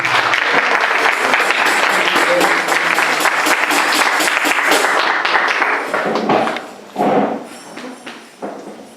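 A congregation at a French-language church service claps loudly and densely in sustained applause that gradually thins and fades into scattered claps.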